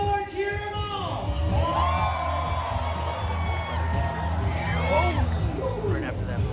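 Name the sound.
crowd cheering at bullfighting event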